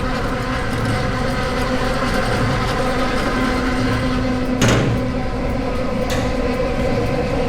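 A 2024 QuickWood CB1000 oscillating brush sander runs with a loud, steady industrial drone and a couple of brief clunks partway through.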